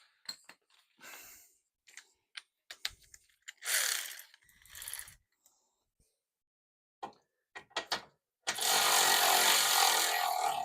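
Ratchet work on bolts while dropping the engine from a Maserati 4200: scattered short clicks and taps, a couple of brief buzzy ratcheting bursts, then a loud sustained run of rapid ratchet spinning near the end.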